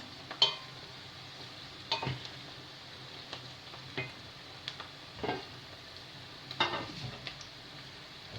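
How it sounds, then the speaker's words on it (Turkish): Onions fry in an oiled pan with a soft, continuous sizzle. Spatula stirs and scrapes recur at irregular intervals, sounding close and moderately loud. "Soğanlarımı kavuruyorum şu anda."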